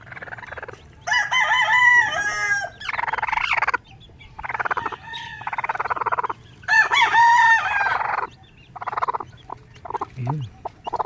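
A mother hen makes repeated close vocal bursts of clucking and crowing-like calls in irregular bouts separated by short pauses, with faint background noise.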